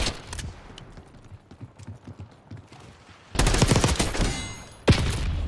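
Gunfire in Call of Duty Black Ops 6, with quieter rapid shots early on, then two loud, sharp blasts with ringing decay close by, the second a crisp sniper-like crack.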